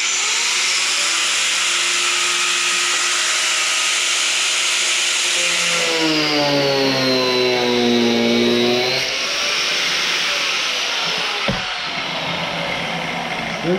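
Angle grinder with a cutting wheel slicing a hole in a camper, a loud continuous high whine whose pitch sags and then recovers as the blade bites in, ending with a sharp knock.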